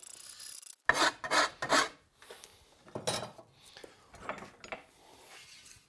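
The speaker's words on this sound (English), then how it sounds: "by taking that rasp and cutting from the top down, you can avoid lifting that rawhide" A rasp filing rawhide on the back of a primitive bow, worked from the top down: close, coarse scraping strokes in short rhythmic bursts, three quick ones and then several softer, more spaced strokes.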